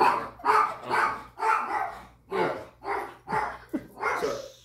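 A dog named as a good dog barks repeatedly, about seven loud, close barks in an even rhythm, alone without talk.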